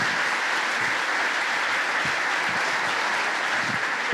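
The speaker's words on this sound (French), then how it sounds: "Merci d'applaudir très fort Jean-Michel." Sustained, even applause from an evening audience welcoming a speaker onto the stage at a storytelling event, a steady wash of many hands clapping with no voices on top.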